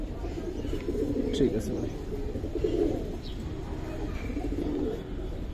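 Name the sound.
Giribaz pigeons cooing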